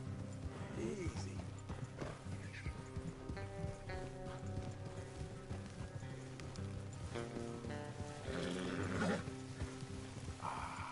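Hooves clip-clop steadily under Red Dead Redemption 2 game music and ambience, with a horse whinnying briefly; a voice speaks intermittently.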